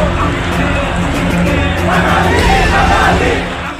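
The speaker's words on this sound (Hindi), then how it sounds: "बांग्लादेश की सड़कों पर उतरे लाखों हिंदू" A huge crowd of Hindu protesters marches through the streets of Bangladesh, a loud continuous roar of massed voices that swells into shouting and chanting midway and then eases slightly at the end.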